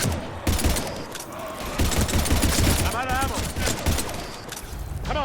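Rapid gunfire and bursts in Mass Effect 3 battling husks, loud and dense throughout, mixed with voices and game effects.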